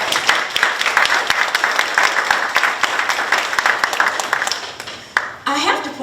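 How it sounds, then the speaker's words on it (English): A school address audience applauds, with scattered sharp individual claps standing out from the crowd clapping; the applause dies down near the end and a voice begins speaking over the last moment. "This deserves a round of applause."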